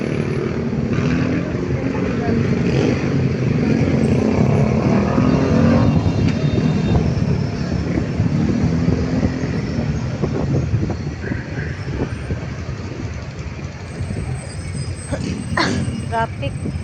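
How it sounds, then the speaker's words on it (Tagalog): Road traffic passes by on a street in the Philippines, a loud, continuous rumble of engines and tyres with a few sharper passing swells, while people talk nearby. "Traffic."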